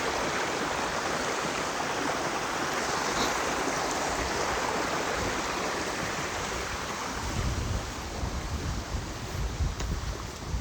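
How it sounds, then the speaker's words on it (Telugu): Water rushing loudly through a paddy field channel after a night of rain, heard as a constant dense roar close to the microphone that continues unbroken for the whole stretch, with no voices over it. "వాటర్ సౌండ్ అయితే ఘోరంగా వస్తుంది"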